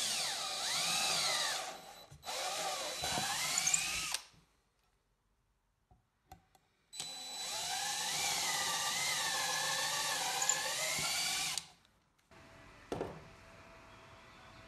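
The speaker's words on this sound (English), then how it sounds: "I will move to drilling the holes in the table legs" A power drill boring holes in wooden picnic table legs whines in two long bursts with rising and falling pitch, separated by a quiet pause, with a few faint clicks between.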